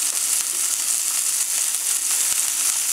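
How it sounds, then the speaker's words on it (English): Pork tenderloin sizzles loudly as it sears in a hot pan, a steady close crackling hiss with small pops, no voices. "we're going to sear it off"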